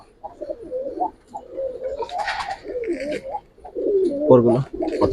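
Silver-coloured Gribaz pigeons cooing close by, a series of soft warbling coos that swell louder toward the end, with a voice talking in the background.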